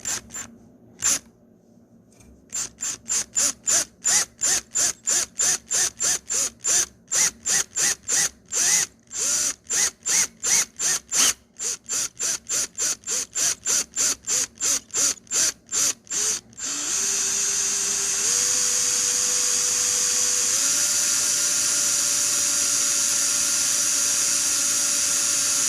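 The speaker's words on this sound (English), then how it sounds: "Okay, so our tumbler is all drilled out" A power drill bores through a tumbler in rapid repeated bursts of short pulses for about sixteen seconds, followed by a steady continuous whine that rises in pitch in a few steps.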